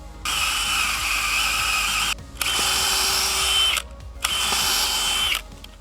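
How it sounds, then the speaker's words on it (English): A loud power drill with a 1/2 inch bit whirs steadily in three long bursts with short pauses between, the motor straining as the bit bores into wood. "we're going to use a 1/2 inch drill bit"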